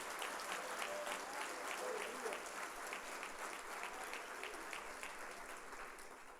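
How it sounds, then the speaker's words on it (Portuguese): A church congregation applauds, a soft, steady patter of many hands clapping at some distance, sustained for several seconds in a fairly faint, even wash. "Você pode dar uma salva de palmas para a glória de Deus?"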